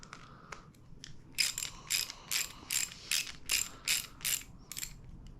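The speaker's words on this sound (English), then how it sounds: "Yes, I'm using a ratchet." A hand ratchet clicks while tightening Glidr Nautilus scales on a folding knife. It gives a close, crisp run of about ten evenly spaced ratcheting bursts after a few lighter clicks.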